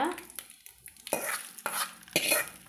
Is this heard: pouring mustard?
yes